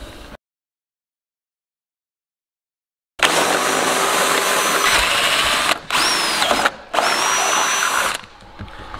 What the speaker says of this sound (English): We're going to now jump to drilling the front of this bumper